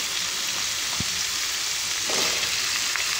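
Steady, loud sizzling of okra frying in a hot pan, with a brief stirring scrape partway through.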